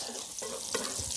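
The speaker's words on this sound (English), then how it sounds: "just sear that onion in the bacon grease" Onion searing in hot bacon grease for German potato salad, a close, steady sizzle with a couple of brief stirring scrapes, and no talking.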